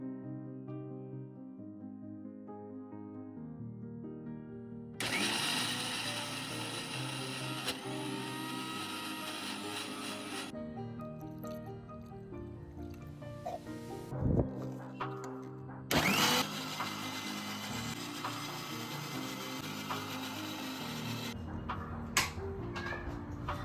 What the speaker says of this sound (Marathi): फक्त आपल्याला मिक्सरमधनं बारीक वाटून घ्यायची आहे